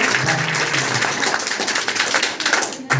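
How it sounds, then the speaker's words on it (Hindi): An audience at a school quiz competition for tenth-class students claps for a correct answer, a dense burst of applause that stays loud throughout and tails off at the end. "ताली बजाइए।"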